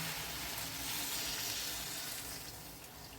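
Strained water from boiled bottle gourd is poured into a hot cooking pan of prawns, a steady bright hiss and sizzle that holds throughout and tapers slightly at the end.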